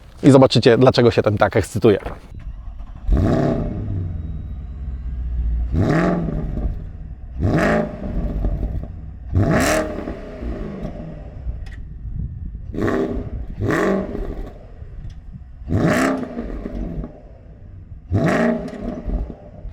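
A Porsche Panamera GTS with a 4.8-litre naturally aspirated V8 is revved hard in a series of about eight sharp blips, each rising to a roar then dropping back to idle, heard close and loud.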